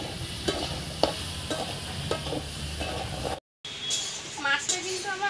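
A fish fries lightly in a little oil, with a constant close hiss broken by regular spatula scrapes and stirring strokes. After a short dropout, the sizzling continues and a faint voice briefly surfaces.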